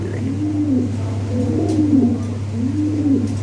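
Lahore Siraji pigeons coo in a steady, rhythmic series of low throaty calls, three clear rounds close by, with no talk over them.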